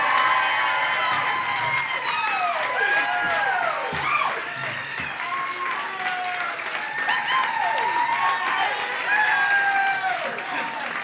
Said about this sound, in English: Please keep the applause going for Mr.